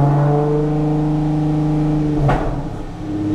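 A car engine revving loudly and close by while downshifting, with a steady droning tone, a sudden jolt and clunk as the gear drops, then the revs climbing again.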